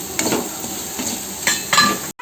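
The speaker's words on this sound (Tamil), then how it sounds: "இதில் இப்போ இந்த நாட்டு சர்க்கரையை கொட்டி வதக்கணும்" Grated coconut and country sugar being sautéed in a kadai for purna kozhukattai filling, with a steady low sizzle and a few clinking scrapes of a spoon against the pan, close and moderately loud.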